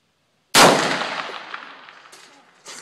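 A single loud .308 rifle shot cracks close by, then rings out in a long decaying echo, with a faint clatter near the end.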